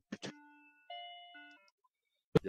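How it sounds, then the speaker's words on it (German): A telephone rings in a science fiction radio drama as a pair of bright electronic chime tones, each tapering into a soft descending ring, then silence before a short burst at the end. "Jetzt klingelt das Telefon."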